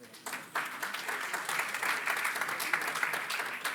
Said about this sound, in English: I would like also request you to give a round of applause to Mr. Mizuno, please